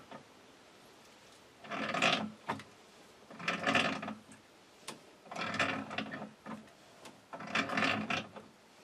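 A fitting is threaded by hand into a Harbor Freight shallow well pump, with four separate bursts of gritty, ratcheting scraping from metal threads turning, separated by short quiet pauses and a few light clicks.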